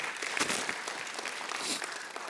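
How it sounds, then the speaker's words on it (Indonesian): A church congregation claps during a Sunday service, a short burst of many hands applauding at moderate level with a few louder claps poking through. "berikan tepuk tangan buat Tuhan Yesus"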